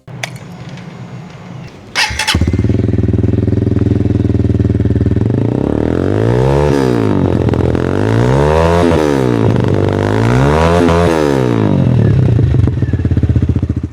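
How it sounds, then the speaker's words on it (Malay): A WMoto Hawk 200 single-cylinder 200cc overhead-cam motorcycle fires up after a brief clatter, then idles loudly and close before being revved in several rising and falling sweeps. "Enjin datang dengan 200cc satu silinder single overhead cam."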